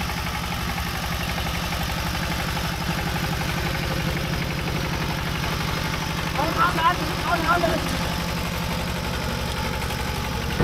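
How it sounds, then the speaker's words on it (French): A tractor engine idles and churns at a steady, rumbling drone while a farmer works the land in rural Vietnam. The machine is moderately close and runs continuously, with a few faint higher clatters partway through. "on a le paysan qui travaille avec un tracteur comme j'avais pas encore vu"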